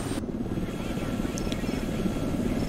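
A helicopter in a tactical jungle-warfare video game thrums steadily with a dense, continuous rotor chop filling the short stretch, loud and close, with no break in the engine drone.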